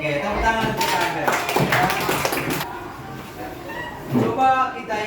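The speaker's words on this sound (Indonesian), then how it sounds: "tepuk tangan untuk Albert." A classroom of students claps for a classmate, a broad burst of scattered applause that swells and fades with a second smaller wave near the end, with some talk mixed in.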